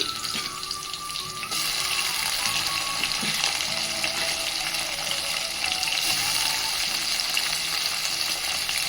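Tomatoes added to a pan of green chilies and onions fry with a steady, loud, continuous sizzle, a brief stir-clatter near the start, no talking.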